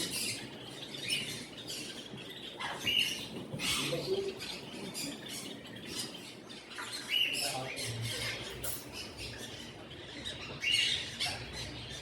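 Ringneck parakeets, a male and female pair, squawk and chirp in repeated sharp bursts at moderate distance, with a quieter background of twittering between calls.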